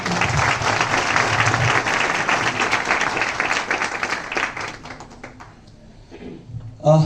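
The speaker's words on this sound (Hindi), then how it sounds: "ताली बजाएं" Dense, steady applause from a crowd fills most of the clip, fading out near the end before a brief burst of voice.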